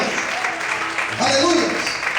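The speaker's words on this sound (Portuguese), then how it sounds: "Quantos podem aplaudir e glorificar ao Senhor nessa noite?" A church congregation at an evening service applauding to glorify the Lord. Brief, moderately loud clapping runs under voices and sustained tones.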